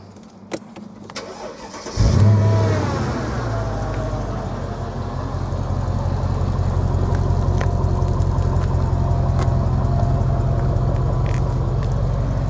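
A 2003 Mercedes SL55 AMG engine cranks and fires up, then settles into a loud, steady deep rumble with a few light revs, close by.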